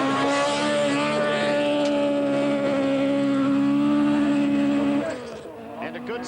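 A rally car at the 1985 Ashley Forest Rallysprint revs hard at the start line with a loud, steady engine drone that cuts off abruptly near the end as it launches away, leaving fainter noise behind.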